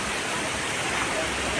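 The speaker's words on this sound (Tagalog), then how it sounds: "Lakas ng ulan pero marami pa rin naliligo." Heavy rain falls during a typhoon near a bridge where people are still swimming, a steady dense broadband hiss that stays loud and continuous throughout, with no distinct voices standing out.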